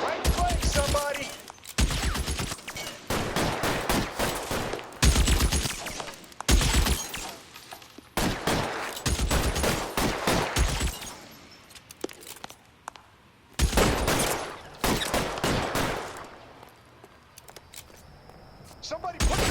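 Gunfire in an L.A. Noire shootout, with repeated bursts of sharp shots coming in clusters and short pauses between them, close and loud, with voices shouting over parts of it.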